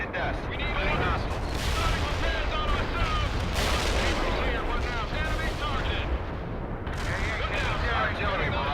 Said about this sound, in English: Artillery barrage turned the target area into dust.